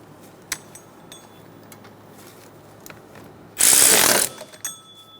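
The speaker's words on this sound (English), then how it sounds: "Snug the bolts down." A ratchet snugging down the mounting bolts on a Honda Accord power steering pump: a few faint clicks, then one loud, rapid burst of ratcheting close up lasting under a second.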